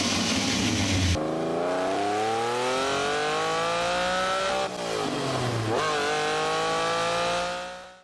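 A Lamborghini Bizzarini V12 engine revs hard in a series of rising pulls, the smooth multi-cylinder howl climbing in pitch, dropping briefly between shifts, then climbing again, loud and sustained throughout.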